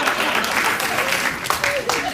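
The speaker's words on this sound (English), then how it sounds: "Oh, stop clapping." A late-night talk show studio audience claps in a steady, dense wash that fills the room, with the host's voice running over the applause.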